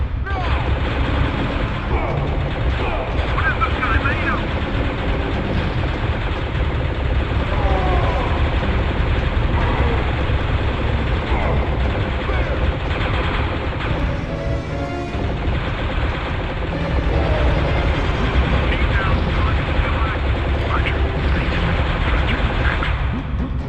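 Continuous gunfire and explosions fill a video game shooter, loud and dense throughout with constant crackling bursts and booms and no pause.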